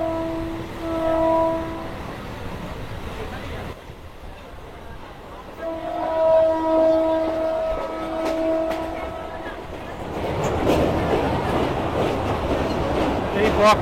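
A local train on the Katwa to Ahmadpur line rumbles along as its horn sounds in repeated blasts, then its wheels clatter loudly on the track, with people talking now and then.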